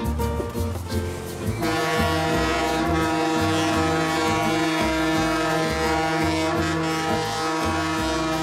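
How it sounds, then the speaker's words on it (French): A loud, sustained train horn blares steadily for several seconds, deep and tonal, booming over a rumbling background, in Guatemala. "Il y a un klaxon monstrueux."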